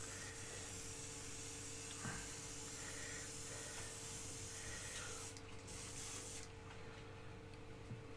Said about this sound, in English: I have run out of paint in the airbrush.